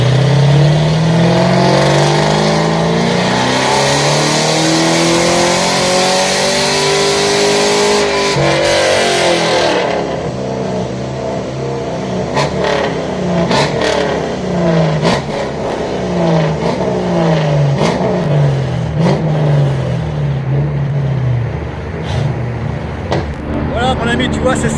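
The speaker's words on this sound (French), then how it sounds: "un petit passage au banc pour cette Camaro." A Chevrolet Camaro runs on a dynamometer, its engine revving loud and close in a long rising pull, then dropping to a rough burbling idle with repeated blips of the throttle.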